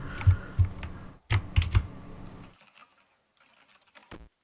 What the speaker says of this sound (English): that keyboard sound, you may have heard it in this stream